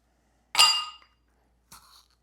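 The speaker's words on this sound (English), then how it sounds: "let's go ahead and put a few ice cubes in there" Ice cubes drop into a glass for a Black Russian cocktail, one bright sharp clink with a short ringing tail, then a second softer clink a moment later, close and alone.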